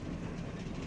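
A train at Palasa railway station gives a steady, loud rumble that fills the whole brief moment with no break and no voices.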